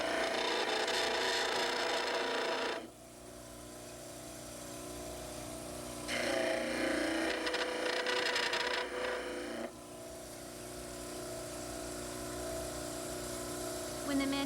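A model trimmer grinding the heels of a mandibular dental cast, a loud abrasive whir that rises in two long bursts and drops back to a steadier machine hum between them.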